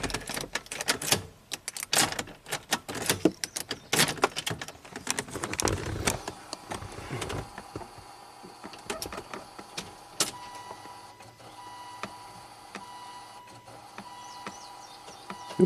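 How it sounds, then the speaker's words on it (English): The fuel pump of a 2005 Volvo XC90 Turbo primes with the key on. Quiet mechanical clicking and ticking come first, then a faint steady whir that holds in the background. "Okay, so we did hear the pump"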